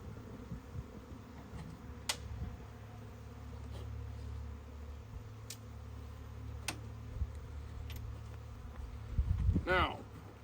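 Honey bees buzzing around an opened, aggressive backyard hive, a steady low hum close by with occasional ticks and a louder burst near the end, while someone talks quietly over it.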